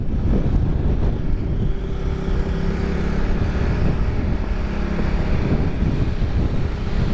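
Strong gusting wind buffeting the microphone during a motorcycle ride near Malico, San Nicolas, a continuous loud roar with low engine and road rumble underneath.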